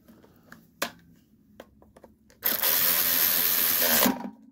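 Mechanical work on a 1976 5 hp flathead minibike engine: a few sharp clicks and taps, then a loud, steady whir of roughly one and a half seconds from a tool driving bolts tight, followed by quiet.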